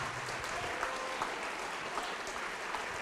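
A church congregation claps together in a steady, continuous round of applause, even in loudness and unbroken by voices.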